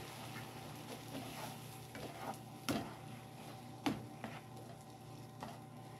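Scrambled eggs are stirred in a pan over a gas flame, giving a soft continuous sizzle with faint scraping and a few sharper clicks of the utensil against the pan.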